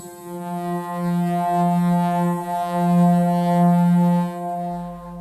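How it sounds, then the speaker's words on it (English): A steady synthesized tone from a resonator running at the same frequency as the played note hums with rich, buzzy harmonics, swelling slightly in loudness and holding for several seconds before cutting off. "you hear is a resonator running at the same frequency as the note"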